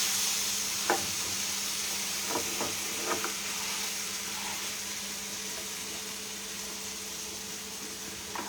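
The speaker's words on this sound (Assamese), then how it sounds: "পনীৰখিনি মই ইলুটি সিলুটি কৰি পেলাই ধুনীয়াকৈ অলপমান ভাজি লওঁ" Paneer pieces fry in a pan with a steady, close sizzle that runs throughout, joined by a few faint scrapes and clicks of stirring and no talk.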